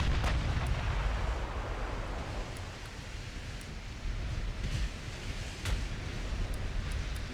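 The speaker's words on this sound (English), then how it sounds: "And we're shooting super heavy shells." Super heavy battleship shells firing in the naval game Ultimate Admiral Dreadnoughts, heard as a dense, rumbling wash of deep booms with a few sharper reports poking through, steady and loud throughout.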